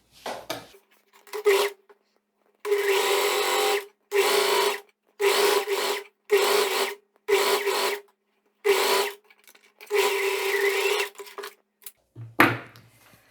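A sewing machine stitches a seam on a shorts and blouse set, running in about eight short bursts separated by pauses, close and loud.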